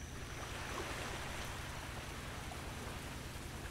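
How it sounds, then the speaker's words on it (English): Steady, dense rain from the Ultimate Fishing Simulator video game, falling as an even wash of hiss on a dreary morning with no break and no voices. "A dreary, rainy morning."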